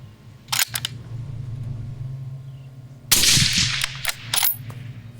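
A Savage rifle chambered in .243 Winchester fires an 87 grain VMAX round, a sharp loud report followed by a decaying outdoor echo, with a couple of brief clicks and mechanical handling noises before and after the shot.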